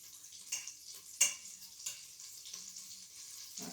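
A tablespoon of butter melts and sizzles in an Instant Pot, a faint steady fizz broken by a few light clicks and taps.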